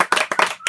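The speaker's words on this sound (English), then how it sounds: "So a round of applause for you." Brief, close clapping from a few people in a radio studio, several bursts of hand claps over under a second, fairly loud and dry with no voices.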